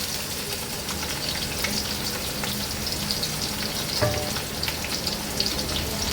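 Onions sizzling in hot oil with bay leaves, star anise, cloves, cardamom and cinnamon for a restaurant-style chicken biryani: a steady, close crackling fry with faint stirring scrapes and no talk.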